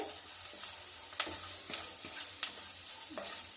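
Eggplant pieces for vankaya ullikaram sizzle steadily in a hot pan, with spatula stirs and scrapes clicking at irregular intervals over the constant frying hiss; no voices.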